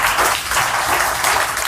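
Audience applause at Kaun Banega Genius 2025, a quiz show for government school children, rolls on as a dense, steady roar of many hands clapping without a break.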